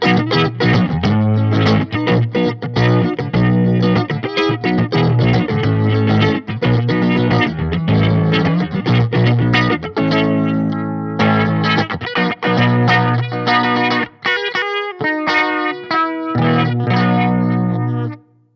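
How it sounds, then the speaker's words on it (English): An electric guitar played through a Fender Mustang Micro headphone amp with Vibratone rotary-speaker modulation and reverb, strummed chords and picked phrases ringing loud and close with a swirling, wavering tone and no talk. "Next up, Vibratone and reverb."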